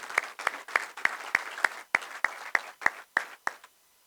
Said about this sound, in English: Can we please have a round of applause for all of our sponsors this morning?